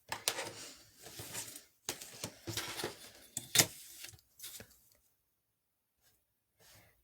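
Paper cut to size with a breakaway blade drawn along a metal ruler, a series of close scraping, slicing strokes in short bursts, then quiet.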